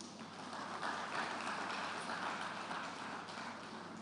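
Steady, dense applause from a conference audience at a journalism awards event, a continuous wash of many hands clapping at moderate distance with no talk over it.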